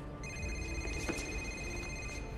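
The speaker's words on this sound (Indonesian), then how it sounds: "Tiba-tiba HP Inspektur Pazzi berdering" A mobile phone rings in a scene from the 2001 film Hannibal, its electronic tone repeating steadily over a dense background of room ambience and faint murmuring.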